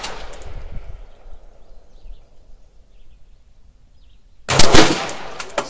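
A rifle fires outdoors, a loud close burst of gunshots after a quiet stretch with faint ambient noise and distant birds.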